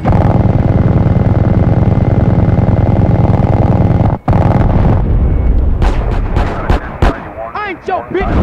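Loud, dense gunfire and explosions from the PlayStation 2 game GTA San Andreas roar almost without pause, then break into scattered sharp bursts and pops, with voices heard through the action.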